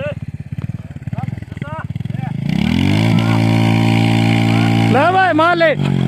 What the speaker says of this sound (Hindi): चल पड़िया मोटरसाइकिल चलाओ भाई